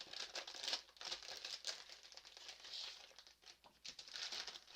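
Crinkly plastic wrapping on a Pokémon card pack is handled and torn open, a run of close, crisp crackles and rustles in uneven bursts with no voice over them.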